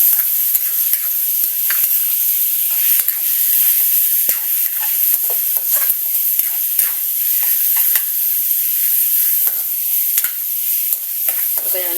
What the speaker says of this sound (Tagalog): Sabayaan natin mag-brown ng konti yung pork at magmantika.